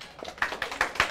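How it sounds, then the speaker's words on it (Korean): Sparse claps from an audience at a magic show: four or five distinct, close claps at an uneven pace, fairly quiet and with no voices. "박수!"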